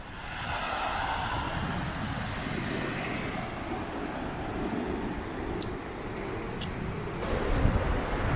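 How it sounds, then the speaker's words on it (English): Sea waves wash against the stones of a beach at Sheringham, Norfolk, a continuous broad roar mixed with wind buffeting, fairly loud and steady, swelling slightly near the end. "you can hear the sound of the sea crashing against the stones."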